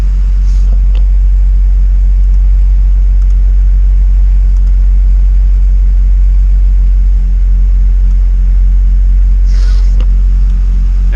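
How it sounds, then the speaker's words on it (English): A turbocharged Honda Type R engine idles while warming up, with a steady deep rumble and a constant low hum, loud and close, with faint brief clicks near the start and end. "I'm just going to let the car warm up."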